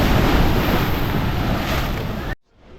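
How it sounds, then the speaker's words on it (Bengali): Tidal waves roll at a river estuary near Digha under loud, steady wind noise, a broad continuous wash that cuts off abruptly near the end. "তো দেখো এখানে মোহনার ঢেউগুলো"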